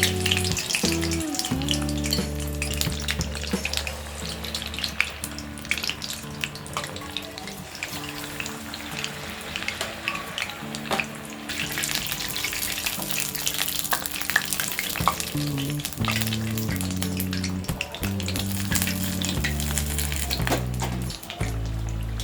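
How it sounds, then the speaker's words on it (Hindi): Batter-coated paneer pieces deep fry in hot oil in a kadhai, giving a constant dense sizzle and crackle throughout with occasional stirring, heard over background music. "अब हम इसे डीप फ्राई करेंगे। हमने कढ़ाई में तेल गरम कर लिया है।"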